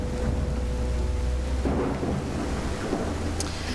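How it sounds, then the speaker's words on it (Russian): Rolling thunder from a lightning strike in the video game Call of the Elder Gods, a loud rumble over steady rain that swells and fades. "Я жду молнию. Хочу молнию красиво сделать."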